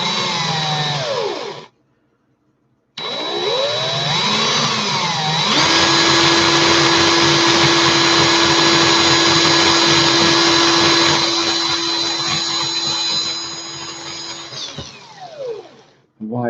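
A power drill twisting wire whines steadily for several seconds, pausing briefly, then running again loud and close before winding down.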